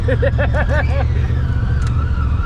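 Off-road buggy engine droning steadily and close while driving up a chute, with a low rumble throughout and a brief burst of talk near the start.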